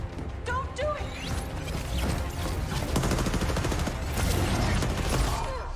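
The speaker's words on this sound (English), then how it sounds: "Oh! The fireworks!" Fireworks go off in an Apex Legends animated story, giving dense, rapid crackling and popping bursts that continue throughout, mixed with other action sounds.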